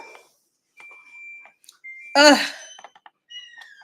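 Repeated electronic alarm beeps sound as steady high tones that stop and start, interrupted by one loud, short noisy burst midway, with no talking.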